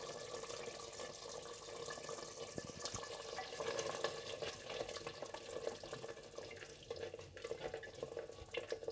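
Water pours into a pot of mutton kunna being cooked, a quiet steady splashing stream with faint drips, running continuously with no talking.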